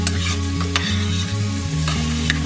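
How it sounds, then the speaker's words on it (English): Shrimp for Mexican shrimp tacos gobernador sizzle loudly in a hot pan while being stirred, with continuous crackling, scraping strokes of a utensil and a low steady hum underneath. "after you add the shrimp, you're going to move it around a little bit."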